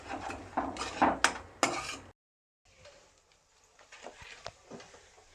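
Ginger-garlic paste sizzles and is stirred in a pan for paneer tikka masala, with a burst of scraping and clinking, a short pause, then quieter sautéing and tapping of a spoon against the pan.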